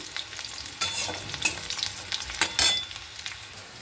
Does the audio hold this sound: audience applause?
no